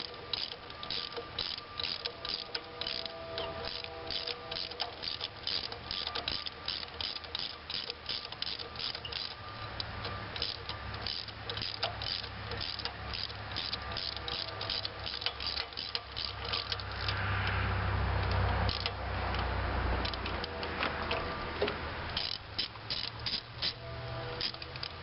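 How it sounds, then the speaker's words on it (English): A 3/8-inch ratchet on a 6-inch extension works loose the spark plugs on a 2005 Scion tC. Rapid clicking of the pawl repeats steadily for the whole stretch, close up and fairly quiet, with no voices. "6-inch extension, and 3/8" ratchet. Get it down in the well."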